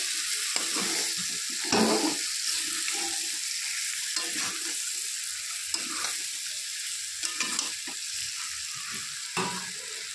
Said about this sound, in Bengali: তো চালটা দিয়ে একটু নেড়ে চেড়ে ভালো করে কষিয়ে নিতে হবে।